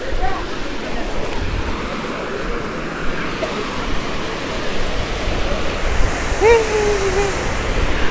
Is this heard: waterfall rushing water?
yes